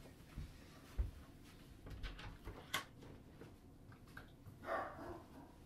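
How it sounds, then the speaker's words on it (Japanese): A small dog barking indoors during an ocarina home concert: a few scattered, muffled barks and yips, faint and somewhat distant, over a quiet room hum. "ワンワンワンという声が聞こえますか。"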